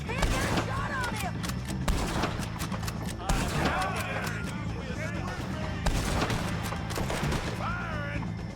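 Rapid gunfire from a Red Dead Redemption 2 shootout, with sharp repeated shots and bursts under steady game action and voices shouting over the fighting.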